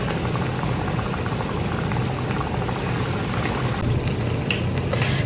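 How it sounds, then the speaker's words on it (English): Plantain slices frying in hot vegetable oil in a pan, a steady dense sizzle and crackle that holds at an even level throughout, with no voices over it. "into a pan which has my vegetable oil, and it's hot, as you can tell. I'm going to fry this to a golden brown."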